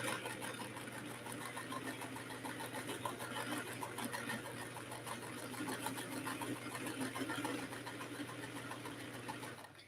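A sewing machine runs continuously, stitching a quilt appliqué with a hem stitch as fabric feeds through, a fast even whirring patter held close and steady throughout, with no speech.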